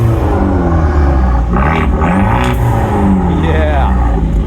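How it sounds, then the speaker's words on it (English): A Fiat Abarth 124 exhaust rumbles and revs up briefly, a deep engine growl rising then settling, with people talking over it close by at a cars and coffee meet. "Can we hear that exhaust?"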